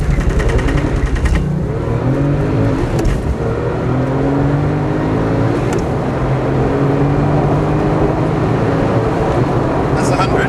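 A GT2 or Z06 sports car launches at about 4,500 revs on wide rear tyres and pulls hard, its loud engine note climbing steadily through the gears, close and continuous for the whole stretch.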